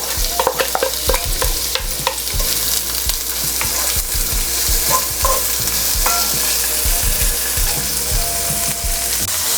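Onions frying in a pan for spicy andouille sausage tortellini, a loud, close, continuous sizzle with frequent stirring knocks and scrapes of a utensil against the pan.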